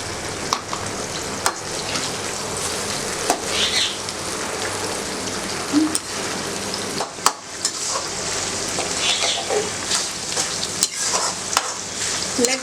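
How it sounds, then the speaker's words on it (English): Tomato pieces frying in hot oil with green chilies for chicken dum biryani, a steady close sizzle broken by sharp scraping stirs and spoon taps against the pan. "Now let us add tomato to it and fry the tomato as well until they turn soft."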